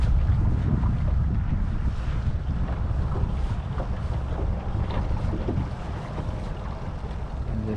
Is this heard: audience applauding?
no